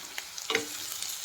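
Onion softens as it fries in oil, a brief soft sizzle with a quick scrape of stirring near the middle.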